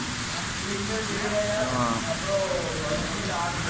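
Heavy rain pours down in Dubai during flooding, a steady close wash of hiss with muffled voices murmuring underneath.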